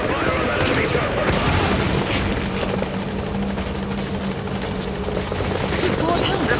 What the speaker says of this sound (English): Focus all your fire on that enemy chopper.